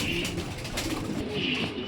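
Racer pigeons coo continuously at close range, soft throaty murmurs layered over a steady background hum with no speech.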